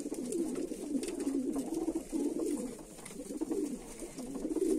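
Pigeons coo steadily inside a loft, a continuous overlapping murmur of soft, rolling calls from several birds close by, with no talk over them.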